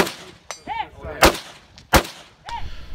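Kalashnikov rifle shots fired at targets about 50 yards away in a shooting competition stage: sharp loud single reports spaced out irregularly, with ringing metallic target hits and faint echoes between shots.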